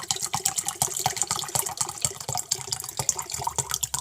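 Water pours into a cup at close range for several seconds, a steady splashing trickle with small bubbling bursts and no talking.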